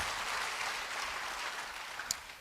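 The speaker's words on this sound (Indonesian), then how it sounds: "beri tepuk tangan bagi dia" An audience at a church service applauds, a continuous wash of clapping at moderate level, with one brief sharper knock near the end.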